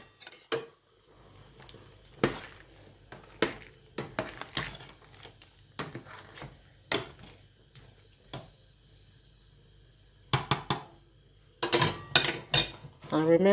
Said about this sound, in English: This is crayfish already blended, so I'm adding it